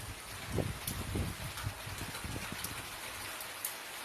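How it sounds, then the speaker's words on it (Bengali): Heavy rain falls steadily, a dense even hiss with a few soft low patters, fairly faint and continuous throughout. "কি জোরে বৃষ্টি হচ্ছে দেখো"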